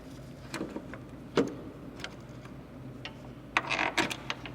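Ratchet turning a rear engine mount bolt on a 2001 Toyota Solara, heard as sparse, faint clicking bursts with a louder rattling run near the end, set against low background hum.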